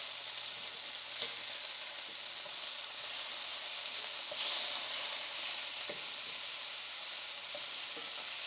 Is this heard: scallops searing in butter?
yes